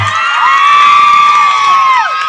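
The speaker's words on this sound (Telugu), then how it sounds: "చప్పట్లు" A crowd at a stage function with comedians and film singers cheers and whoops loudly and continuously, with a long sustained shout ringing over the noise.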